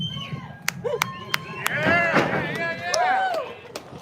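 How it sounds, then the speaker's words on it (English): A crowd at an outdoor Midwest Ribfest eating contest whistles and claps: scattered sharp claps, then a couple of loud rising-and-falling whistles, with someone talking over the noise. "Don't whistle and applaud."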